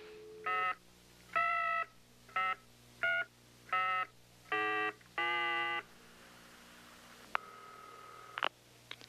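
Touch-tone telephone keypad dialing a number: seven separate DTMF tone bursts in a steady rhythm, followed by a ringback tone and a short click, heard alone with no talking.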